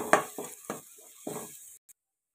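Spoon strokes stir coriander powder and chili powder into a frying masala of tomato and onion for egg curry, a few scraping stirs over a soft sizzle, then silence.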